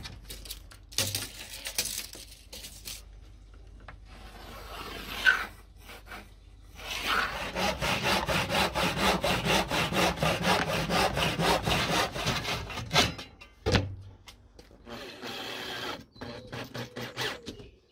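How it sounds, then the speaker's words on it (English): A blunt hand saw cuts through wood during a camper car build: after a few scattered scrapes and knocks, it settles into a run of rhythmic back-and-forth rasping strokes, then stops and starts again. "So I guess I'm using my blunt wood saw."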